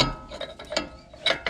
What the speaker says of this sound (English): Now the inner nut, this nut right here, is going to be torqued at around 50-ish.